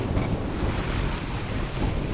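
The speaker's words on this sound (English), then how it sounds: "It's a nice little force 4 south-southwesterly, which we're plugging into." Steady force 4 south-southwesterly wind roars across the microphone aboard a small sailing boat in the Norwegian Sea, with the wash of waves beneath it and no voices.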